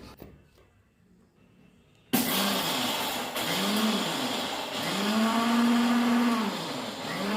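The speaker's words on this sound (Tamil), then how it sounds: "இது வந்து அரைச்சி எடுத்துகிட்டு வந்துடலாம்." An electric mixer grinder grinds dried soaked rice into flour for Diwali muruku, starting abruptly after near silence and running loud and steady with a cycling whine, no talk.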